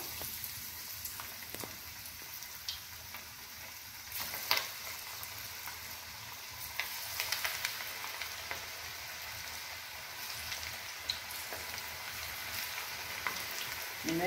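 Ragi onion pakoda dough pinched into hot oil and deep frying: a faint, continuous crackling sizzle like light rain, steady for a long stretch with occasional small pops, no talking.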